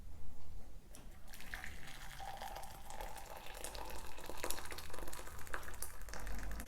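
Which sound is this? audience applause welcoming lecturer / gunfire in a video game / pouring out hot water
pouring out hot water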